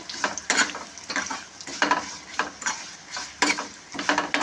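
Steady crackling sizzle of a dried red chilli tempering in hot oil with repeated scraping strokes from a spoon stirring the pan, loud and close.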